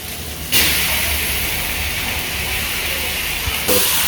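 Chicken dropped into frying masala for a chicken gravy sets off a sudden burst of loud, hissing sizzle that holds steady for a few seconds, then flares again near the end, with no talking.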